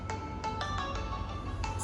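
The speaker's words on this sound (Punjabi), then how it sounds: "ਇਹ ਕਿਹਦਾ ਫੋਨ ਆ ਗਿਆ ਈ?" A phone rings with an incoming call: a repeating electronic ringtone of short, evenly spaced melodic beeps over a low background hum, with no voices.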